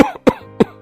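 A man coughs three times in quick succession, sharp close bursts spaced evenly, in a domestic kitchen scene at a meal, with no talking.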